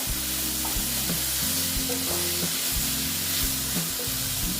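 Okra sizzling in gram flour batter in a hot pan, with a continuous frying hiss broken by soft stirring scrapes, close and fairly quiet.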